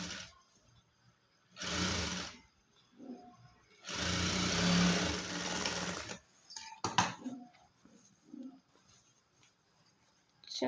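A sewing machine stitches saree fabric into a long frock in short bursts: two rapid mechanical runs, one brief and one longer, separated by quiet handling noises and a few soft clicks.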